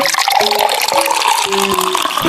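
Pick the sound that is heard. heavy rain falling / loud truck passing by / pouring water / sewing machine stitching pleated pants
pouring water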